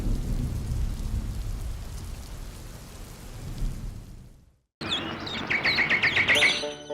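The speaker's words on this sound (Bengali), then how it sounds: "বৃষ্টি শুরু হয়েছে আবার" Cartoon rain pours steadily with a low thunder rumble for several seconds, then cuts abruptly to bright, close bird chirps.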